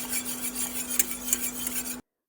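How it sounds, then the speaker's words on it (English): A spoon stirs sugar into a watermelon rind mixture, producing soft scraping and a few light metallic clinks against the pot over a steady hum. "Stir well until the sugar fully dissolves."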